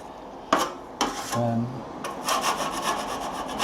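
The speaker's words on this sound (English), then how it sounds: "Scrape that crud off." A tool scrapes crud off damaged lath and plaster in short, rough, close strokes, one after another, with a brief tonal squeak partway through.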